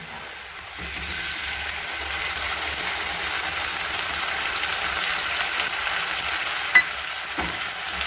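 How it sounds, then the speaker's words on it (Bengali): Ginger garlic paste fries with onions in a pan for chicken curry, a loud, continuous close-up sizzle with a brief sharp clink of a stirring utensil and no voices. "আদা রসুন পেস্টটা দেওয়ার পর ভালো করে নাড়ি চাড়িয়ে নেব।"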